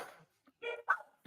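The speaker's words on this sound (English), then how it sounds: "Hope you can't hear the dogs." Dogs bark in short bursts at a middle distance, with a couple of quiet gaps between the barks while a truck is on the property.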